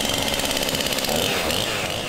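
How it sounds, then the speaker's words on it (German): A large chainsaw cuts into a wooden log while carving a sculpture, its steady loud buzzing engine running continuously throughout without any voices. "fängt man natürlich erstmal an mit einer größtmöglichen Kettensäge."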